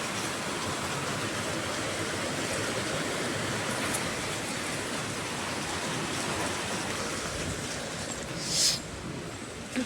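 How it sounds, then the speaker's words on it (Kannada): Rain falling during a thunderstorm, a steady broadband hiss of downpour held at an even level, moderately loud, with a brief bright swell near the end and no voices. "ಮಳೆ ಬರ್ತೈತೆ ಗಾಯ್ಸ್."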